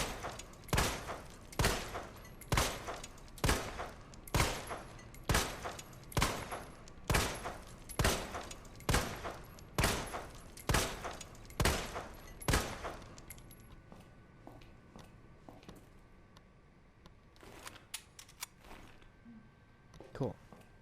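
Samurai Edge handgun from Resident Evil 2 Remake firing fast, a long run of about eighteen loud, evenly spaced shots, then quieter clicks and small metallic sounds once the shooting stops.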